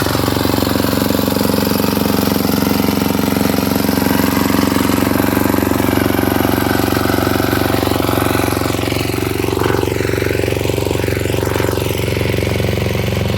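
A tiller machine's engine runs steadily throughout, loud and close, with a constant mid-pitched drone and no pauses, used in a village field while green grams are planted.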